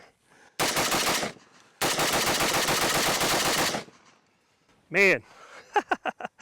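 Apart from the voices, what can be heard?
rifle firing rapidly with Bulgarian RPK magazine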